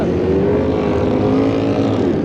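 A Benelli 750 Sei six-cylinder motorcycle pulling away at the start of the 1977 Bol d'Or endurance race: a loud, continuous high-revving engine drone with steady tonal whine, close and dominant, no speech over it.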